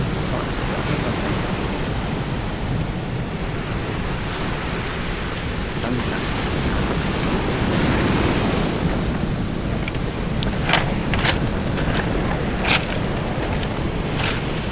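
Ocean surf rolls in at Pololū Beach on Hawaii's Big Island, a broad steady roar of waves with wind buffeting the microphone, a few brief clicks and knocks toward the end, no voices.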